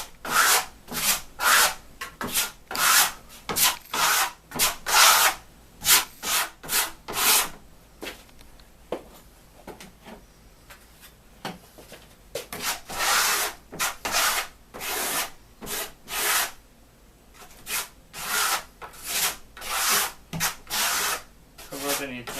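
A steel trowel spreads Firenzecolor Animamundi metallic plaster, color AMS 429, over a primed wall in quick rhythmic scraping strokes, with a short quieter stretch midway.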